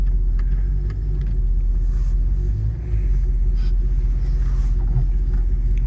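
A 1986 Chevrolet Suburban with a Vortec engine on a cold drive, its low, steady rumble and road noise filling the cabin continuously, with a brief dip partway through.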